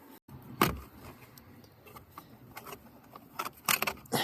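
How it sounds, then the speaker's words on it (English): Small plastic trim panel under the steering wheel of a 2009 Honda Fit being pried off, giving a few sharp clicks and snaps close by, with a louder burst early and another cluster near the end, amid light rustling. "On the underside of the steering wheel, we can pop off this small plastic panel"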